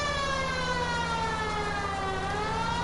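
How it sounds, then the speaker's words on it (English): Police car siren wailing loud and close, a continuous rising and falling electronic tone that dominates without pause. "I hate turning the siren on because it's so loud"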